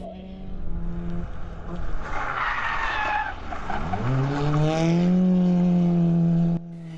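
A Nissan Micra rally car in a handbrake slide at a junior rally: broadband tyre and surface noise builds under a loud, close engine whose pitch climbs steadily as it revs, then cuts off abruptly near the end.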